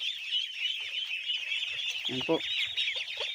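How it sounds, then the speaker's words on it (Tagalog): Ducks on a farm feed on azolla leaves, with steady close quacking and chattering calls plus soft nibbling and splashing, while a person speaks briefly and a high insect-like drone fills the background. "Dinadahan-dahan na po nila yung dahon ng Madre de Agua."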